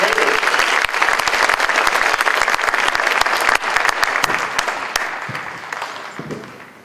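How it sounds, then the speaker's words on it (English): A school prom promenade audience gives a sustained round of applause, dense clapping filling the room, loud at first and tapering slightly toward the end, with no talk over it. "Round of applause for Caden and Caden."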